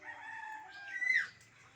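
Chickens and a rooster kept on a rooftop, with a single rooster crow rising to a loud peak near the middle, set against a quiet background of faint clucking.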